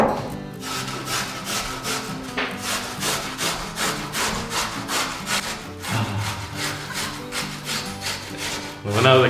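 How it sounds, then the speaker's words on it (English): Ingredient grated into a paste on the smallest holes of a grater for a cauliflower curry with garam masala, a steady rhythmic rasping of repeated strokes, close and fairly loud, with no talking. "So now we are going to use the smallest grate."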